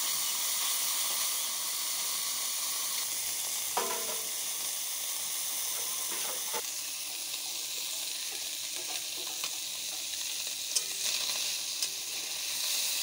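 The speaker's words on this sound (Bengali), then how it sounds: "তেল গরম হয়ে গেছে, মাছগুলো ভেজে নেব।" Small fish fry in hot oil in a pan, a steady close hiss and sizzle throughout with a few faint clinks from stirring.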